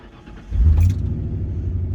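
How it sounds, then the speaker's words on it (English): 1996 Ford Explorer 5.0-liter V8 with about 170,000 miles cranking briefly then catching and settling into a loud, close, deep idle rumble. "hearing that engine roar to life is one of my most favorite sounds"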